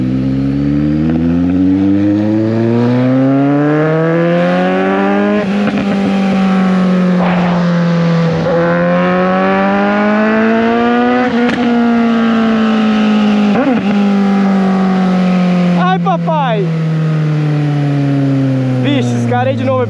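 A Suzuki GSX 750 motorcycle with a bare straight pipe revs hard and close, its loud engine tone sweeping up and down and holding near the limiter for about twenty seconds, with a voice talking briefly under it.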